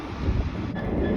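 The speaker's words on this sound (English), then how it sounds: "now passing by is a dual of 387s, 387-164" Two Class 387 electric multiple units coupled together rush past on the Great Western Main Line at Acton, a broad, steady roar of wheels and wind close by with no voices.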